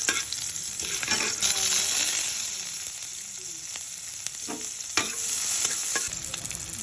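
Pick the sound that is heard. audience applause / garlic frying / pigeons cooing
garlic frying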